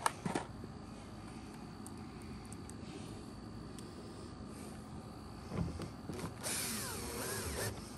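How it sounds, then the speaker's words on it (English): A power driver with a Phillips bit sets screws into a gear track on a Pelican Bass Raider kayak, giving a steady mechanical whir under background noise, with short bit clicks and a brighter, louder run near the end. "Now I'm gonna put my Phillips bit and put my screws in and do that all the way around."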